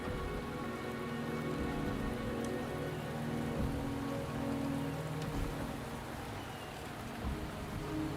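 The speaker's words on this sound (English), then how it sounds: "The rain is subsiding." Steady rain pattering on surfaces in the game Wuthering Waves, a dense continuous wash of drops at moderate loudness with a faint low rumble beneath, no voices.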